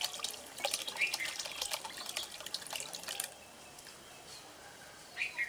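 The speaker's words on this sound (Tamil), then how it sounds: "எல்லாத்தையும் தாளிக்காமல் மண்சட்டியில் ஊற்றிக்கலாம்" Dissolved village-style dried-fish rasam mixture is poured into a hot clay pot, making a faint trickling splash that runs for a few seconds and then stops, with a short dribble at the end.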